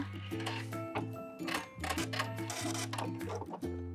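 A home sewing machine stitches through underwear fabric in a rapid, rhythmic whir of short bursts with pauses, finishing a back stitch before the thread is cut, all close and fairly quiet.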